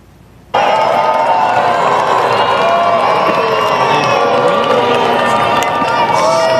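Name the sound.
crowd booing at Duke University commencement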